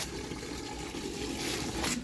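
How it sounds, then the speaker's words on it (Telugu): Water poured from a can or vessel onto potted plants, including a jasmine plant, a soft, faint, steady trickle and splash lasting the whole moment without talk. "అన్నిటికీ ఈ వాటర్ అయితే ఇచ్చేసి వెళ్తున్నాను"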